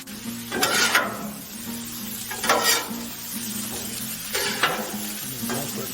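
Shrimp scampi sizzles on a Blackstone griddle, a steady close frying hiss broken by four or five scraping spatula strokes as the shrimp are flipped, no talk.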